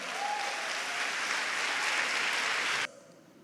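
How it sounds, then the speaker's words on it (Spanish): A church congregation gives a loud, dense round of applause during a service, sustained for nearly three seconds before cutting off abruptly into quiet room tone. "Dale un fuerte aplauso al Señor."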